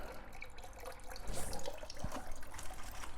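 Water runs and splashes steadily out of a household water pipe during plumbing work. The rushing, trickling flow is close and continuous, with a small knock near the end.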